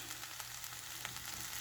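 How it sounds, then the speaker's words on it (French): Sauce tipped into a pot of white beans with smoked pork ribs, giving a steady close sizzle and frying hiss that runs unbroken through the whole stretch, with no talking. "Maintenant, nous allons déverser notre sauce dans notre casserole de haricots."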